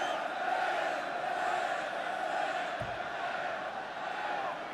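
Stadium crowd at a 1984 Australia versus Wales rugby union Grand Slam tour match, a sustained roar of cheering and chanting from a large, distant mass of spectators, under a faint commentator's voice.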